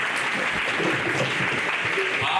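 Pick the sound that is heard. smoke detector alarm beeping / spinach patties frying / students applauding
students applauding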